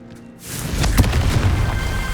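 A Confringo fire spell from Hogwarts Legacy bursts into a deep boom, rising after a brief quiet start and rumbling on as a sustained, loud roar for the rest of the moment.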